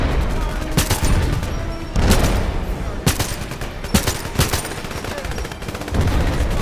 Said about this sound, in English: the AK-47's a sniper on here, man. You just single shoot this thing?